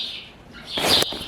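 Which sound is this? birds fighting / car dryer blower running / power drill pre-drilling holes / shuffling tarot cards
birds fighting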